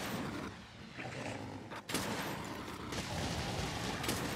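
Heavy bowgun firing explosive shots in Monster Hunter World: a dense, continuous fusillade of booming blasts and bursts, with one sharper spike midway, loud and sustained with no talk.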